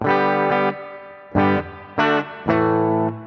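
A budget Les Paul-style electric guitar through a clean amp rings out in four strummed chords. Each one sustains and then is cut short in a loose rhythm, close and fairly loud, with no voices.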